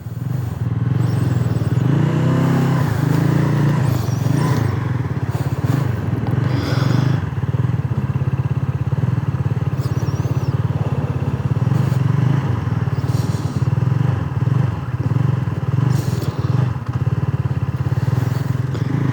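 A Benelli Leoncino 250 motorcycle rides slowly through a parking lot during a turning radius test, its engine a loud, continuous low rumble with slight rises and falls in revs.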